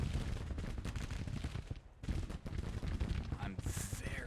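Troops fire muskets in a Civil War strategy game, a continuous rattling fusillade of overlapping gunshots with a brief lull, then heavy firing resumes; a voice talks faintly underneath.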